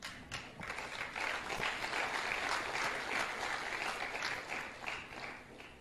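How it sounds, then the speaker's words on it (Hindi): An audience at an Amway leadership event claps in a dense, sustained burst of applause lasting several seconds at steady loudness. "इस बात पे जो तालियां बजाई तो दिल खुश हो गया मेरा"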